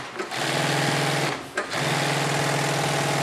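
A sewing machine stitching golf cart seat upholstery runs in two loud, close, continuous bursts of rapid mechanical whirring, separated by a brief pause, with no voices.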